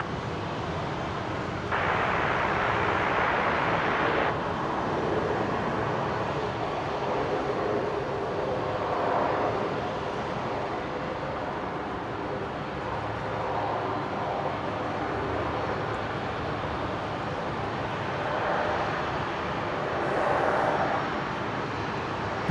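A military transport aircraft lands at Brisbane International Airport, heard as a broad, steady rumble and roar for the whole stretch, rising and falling slightly. It stays fairly loud with no voices.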